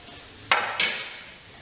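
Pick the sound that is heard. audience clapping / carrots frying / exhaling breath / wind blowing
carrots frying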